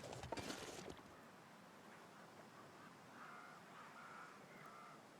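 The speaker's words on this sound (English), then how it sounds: "There's the bear crows, if you've never heard them." Bear crows from The Long Dark survival game, a crow-like cawing with an odd chimp-like edge, come as faint repeated calls in the background after a louder noisy burst at the start.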